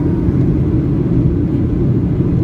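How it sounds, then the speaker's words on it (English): Steady low rumble inside the cabin of a Ryanair Boeing 737-8AS airliner while the wing flaps are being set, a continuous broadband drone with no distinct mechanical clunks standing out. "The flaps are being set to 5 or 10 probably."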